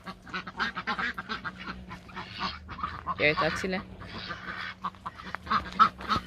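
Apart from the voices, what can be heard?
ducks and geese quacking and honking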